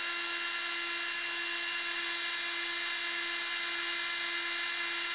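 A Monza Model 510 twin grip centerless grinder runs with a steady, loud high-pitched whine and a constant tonal hum, holding even throughout with no talk.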